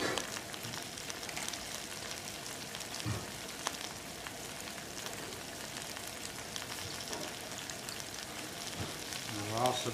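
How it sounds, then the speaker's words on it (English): Continuous crackling sizzle of potatoes, bell peppers and onions frying in a pan, steady and close, with faint clinks now and then. "We're also frying up some potatoes"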